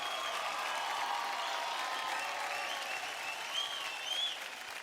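Sustained audience applause fills a Marathi TV dance competition stage, a dense, steady wash of clapping from a studio crowd that stays loud throughout with small swells near the end.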